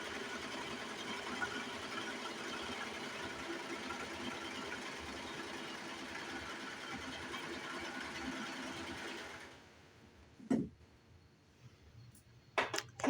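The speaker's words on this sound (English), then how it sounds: "So I'm gonna cut that off with my serger." A serger sewing machine trims and stitches the edge of a fabric headwrap, running as a steady, close mechanical whir for about nine and a half seconds before stopping, followed by a few brief clicks and handling knocks.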